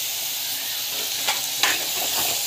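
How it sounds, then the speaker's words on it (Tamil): Asafoetida sautéing in hot oil in a home kitchen, a steady soft sizzle with a couple of brief louder crackles midway. "பெருங்காயம் வந்து ஆட் பண்ணிக்கணும். நல்லா வந்து வதக்கிட்டுக்கோங்க."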